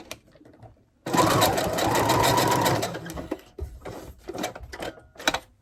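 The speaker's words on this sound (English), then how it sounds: "and then sew up." A sewing machine stitches kite fabric in one loud, steady burst of rapid needle clatter lasting about two seconds, followed by quieter short bursts and clicks.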